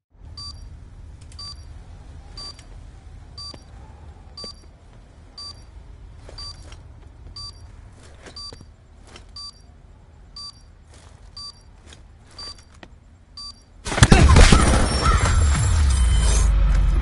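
Armed bomb in a video game beeps in a steady, evenly spaced series of short high tones over a low ambient hum, before a sudden loud burst of broadband noise takes over near the end.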